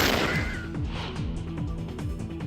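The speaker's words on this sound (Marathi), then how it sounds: "फॅब्रिकेशनच्या सिलेंडरचा दुकानात स्फोट।" A gas cylinder explodes at a fabrication shop with a loud opening blast, followed by rattling crashes and rumbling debris that fade over a couple of seconds.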